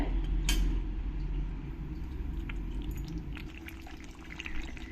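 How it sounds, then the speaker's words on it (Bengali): Water poured into cooking chicken for an Indian chicken and potato curry, a close splash and gurgle that fades into a steady bubbling simmer with small clinks, with no talk. "এবার আমি চিকেনের মধ্যে জল দিয়ে দেব"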